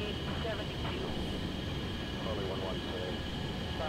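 A jet aircraft engine from a flight video game roars in a continuous even drone with a thin high whine running through it, and the sound stays steady throughout.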